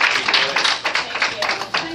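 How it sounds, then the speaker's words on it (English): An indoor audience claps briefly for a speaker named Laura at a real estate training session, a dense burst of close hand claps that fades within a couple of seconds. "Let's give a warm round of applause for Laura."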